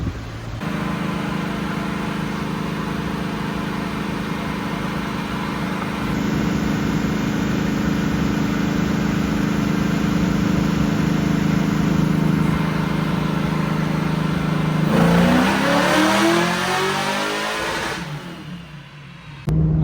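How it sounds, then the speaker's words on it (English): Tuned drift car engine running on a dyno, holding a loud steady drone for most of the run before climbing into a hard rev near the end, then cutting off. "So now we got it on the dyno and we're gonna see how this baby runs, see what it's pushing"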